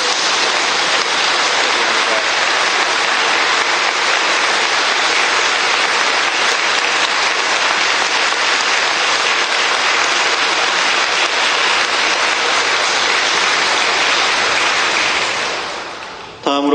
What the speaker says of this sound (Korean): 다시 한 번 더 뜨거운 박수로 축하해 주시기를 바랍니다